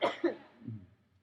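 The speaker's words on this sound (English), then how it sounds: "I had a sinus infection, and it's making me cough." A woman coughs with a sinus infection, two short rough bursts close to the mic, the second followed by a low throaty rumble, with no speech.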